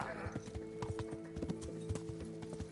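Horse hooves clip-clop in the video game Kingdom Come Deliverance: a quick, steady gait of sharp hoofbeats on a road, close and moderately loud over a low droning game soundtrack, with someone talking.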